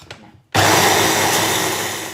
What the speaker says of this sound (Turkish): Biberimizi bu formada blenderdən keçirdik.